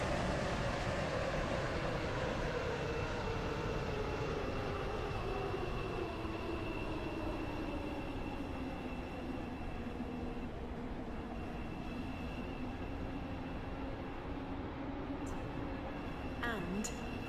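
A six-coach train in the railway video game SCR runs steadily, with a continuous rolling rumble and a pitch that slowly sweeps downward as it slows, with faint clicks near the end.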